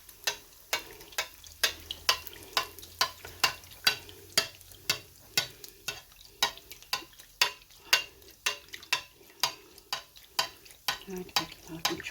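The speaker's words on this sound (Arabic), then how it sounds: "راح نكمل نقليهم كامل" Tunisian fricassee dough frying in hot oil, with a steady close sizzle broken by a regular series of sharp clacks and taps roughly every half second, going on without any talking.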